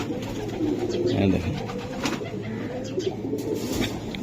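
Giribaz pigeons at a pigeon seller's coo softly in short bursts nearby, with someone talking over them and light background noise.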